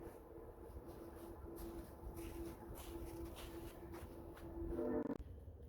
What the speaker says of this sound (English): I'll put you on hold while that train goes by